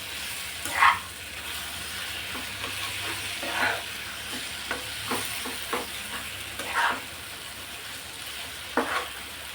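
Mashed brinjal pulp is stirred and mixed in a hot pan, a soft sizzling hiss under repeated scraping strokes of a spoon, close and fairly quiet.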